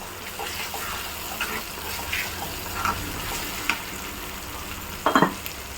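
Tomatoes and onions sautéing in a pan for a poppy seed kuzhambu, a steady wet sizzle with intermittent stirring scrapes and a cluster of sharper clatters near the end, close and alone.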